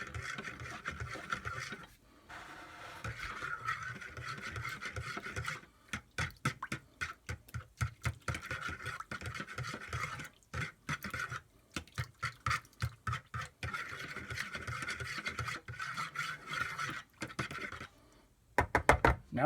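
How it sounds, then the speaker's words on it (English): A fork scrapes round and round in a bowl of yeast and liquid, stirring slowly in repeated soft, rhythmic strokes with brief pauses. "Now we're going to take a fork. We're going to mix this up real slowly until we get the yeast to dissolve"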